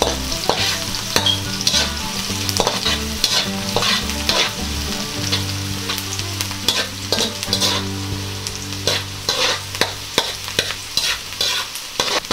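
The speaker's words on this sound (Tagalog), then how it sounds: "Hahaluin po natin." Onions fry in a pan while being stirred, giving a continuous sizzle broken by repeated scraping and clacking strokes of the utensil, close and loud, with no voices.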